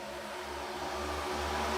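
Race cars roar at a restart in iRacing at Daytona International Speedway, a dense, sustained engine drone that builds steadily as the pack accelerates.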